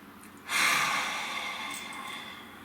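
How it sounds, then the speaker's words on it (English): One deep breath, a long audible inhale that swells quickly and then eases off slowly, heard close and alone. "Nice deep breath."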